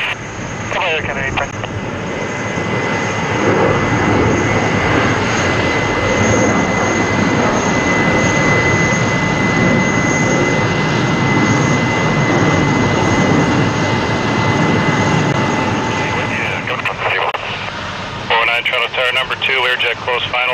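A jet airliner rolls for takeoff from runway 15 left at Toronto Pearson, its engines a loud, steady roar with a whining tone that holds for nearly twenty seconds, as radio voices break in at the start and end.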